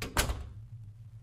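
A single door opens with a short wooden knock and creak in The Crooked Man horror game, followed by a quiet low hum.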